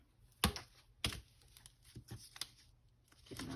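Paper pages being ripped out of an altered book during a craft session: a few sharp tearing bursts and crinkly rustles, close and fairly quiet, with no talk.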